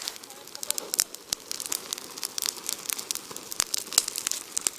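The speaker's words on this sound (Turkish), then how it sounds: "Yanına iyi bir ateş yaptık." A wood fire crackles and pops steadily beside chicken cooking in a tin, with dense, irregular snaps close by and no talk over it.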